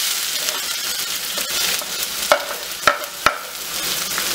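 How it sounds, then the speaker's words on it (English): Curry leaves and finely chopped onions sizzle steadily in a frying pan with urad dal, close and continuous, with a few sharp clacks of a spoon against the pan during stirring. "I'm going to add in the curry leaves. And then followed by the finely chopped onions."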